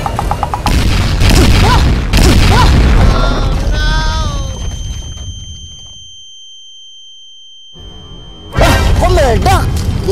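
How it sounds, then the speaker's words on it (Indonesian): A loud bomb explosion sound effect booms and crashes in bursts, then fades into near silence before another sharp blast; voices are heard around it. "siapa yang lempar bom nih?"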